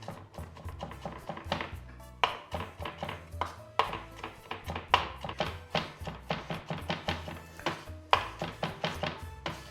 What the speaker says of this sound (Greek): Ετοιμάζω και το σκόρδο, το τσακίζω και ψιλοκόβω.